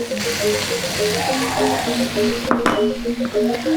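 A rice dish with spring onion, sugar, salt and mushroom seasoning is stirred in a pot, giving scraping and soft clattering strokes over a continuous low hiss, with a sharper clink partway through.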